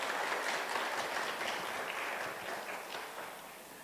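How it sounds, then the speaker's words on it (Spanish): A room full of people at a heritage workers' gathering applauding, a fairly quiet, even patter of claps that slowly tapers off toward the end. "Un fuerte aplauso para don José, por favor."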